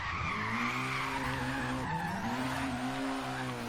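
A Nissan 240SX S13 drift build slides sideways in Forza Horizon 3, its engine droning steadily while the tires squeal continuously through the whole stretch, loud and close.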